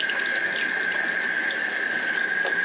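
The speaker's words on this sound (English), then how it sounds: "I'm going to rinse my denture brush and make sure that all the denture paste is out of it" A tap runs steadily into a sink while a denture brush is rinsed beneath it, giving a constant hissing splash with faint shifts as the brush moves through the stream.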